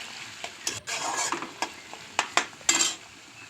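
Chopped onions are stirred into beef liver for a Bengali liver bhuna. A utensil strikes and scrapes the pan in a quick, irregular series of clinks over a soft, steady frying hiss, close by and with no voices.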